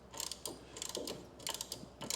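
Ratchet wrench clicking in several quick bursts as corner bolts are tightened, a 5/8 inch socket turning against the pawl; close, fairly quiet, with short pauses between strokes and no talking.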